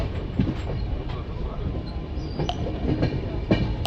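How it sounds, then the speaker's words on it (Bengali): The Kolkata-Radhikapur Express rolls into Barsoi Junction before dawn with a steady low rumble, punctuated by periodic wheel clacks and faint squeals from the carriages. "ভোর পাঁচটার সময় আমাদের ট্রেন এসে পৌঁছালো বারসই জাংশন"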